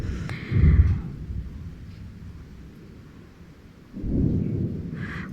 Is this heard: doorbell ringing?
no